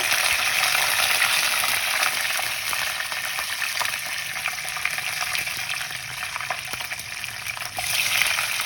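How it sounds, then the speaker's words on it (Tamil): Mustard seeds, urad dal, chana dal and curry leaves crackling in hot oil for a potato masala, a steady bright sizzle with scattered pops throughout, close and alone without talk. "கடுகு, உளுந்து, கடலைப்பருப்பு போட்டுட்டு அது கொஞ்சம் லைட்டாக பொரிஞ்சதுக்கப்புறம் கருவேப்பிலை போட்டுக்கோங்க"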